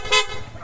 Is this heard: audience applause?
no